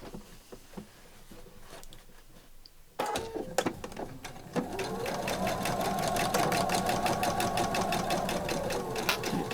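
A sewing machine sews a bag seam with reverse stitching at the start and end, beginning with quiet handling, then a close, steady rhythmic whirring that grows louder and runs continuously.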